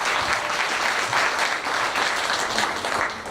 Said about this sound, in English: Make a round of applause for Portia one more time, please.